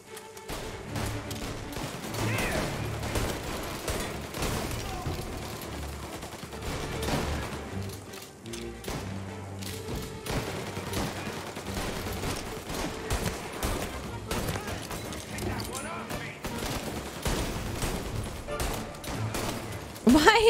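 Continuous bursts of gunfire and rapid shots from the video game Mafia: Definitive Edition fill the whole stretch, loud and dense, with a player occasionally talking over the action.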